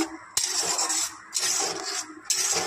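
Moringa leaf mash being stirred in a metal pot with a little water, giving steady scraping and rubbing strokes with bright clinks recurring about once a second, close and alone.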